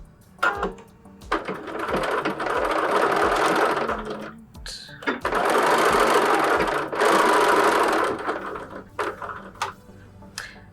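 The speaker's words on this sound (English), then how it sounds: "I'm going to do just a stitch here that's in line with these pockets" A sewing machine stitches across a fabric book cover with decorative pockets. It runs in loud, close, steady bursts of rapid needle clatter, separated by short pauses and small handling clicks.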